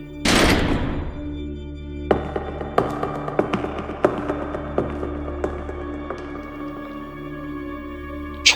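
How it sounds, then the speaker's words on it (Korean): An iron door lock mechanism in an old officetel turns with a heavy opening clunk, followed by a run of sharp, close metallic clicks and taps at an uneven pace. "철문 잠금 장치가 돌아가는 소리와 함께"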